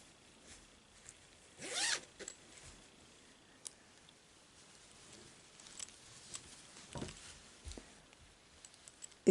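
A zipper on a machine-knitted sweater is pulled in one quick close zip, followed by soft handling rustles and small clicks, faint overall with no talk.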